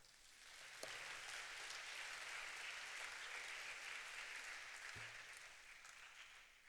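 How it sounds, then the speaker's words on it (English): A large graduation ceremony crowd at Republic Polytechnic applauds in a broad, sustained wash of clapping that holds steady throughout and sounds somewhat distant and faint. "I think she deserves a big round of applause too."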